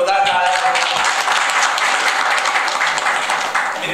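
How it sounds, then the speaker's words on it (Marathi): Audience applause at a ceremony honouring journalists in Devgad, loud dense clapping sustained throughout, with voices mixed in. "त्यांच्यासाठी एकदा जोरदार टाळ्या"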